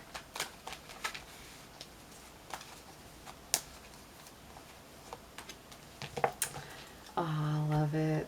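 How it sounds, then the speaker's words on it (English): Oracle of the Unicorns oracle cards being shuffled by hand, a run of soft, scattered papery riffles and taps through most of the stretch, quiet and close, before a sustained tonal sound comes in at the end. "let's pull a card from the Oracle of the Unicorns"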